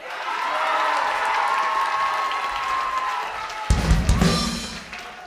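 Audience applause and cheering at a live music session, a continuous roar of clapping with a sudden louder surge toward the end before fading.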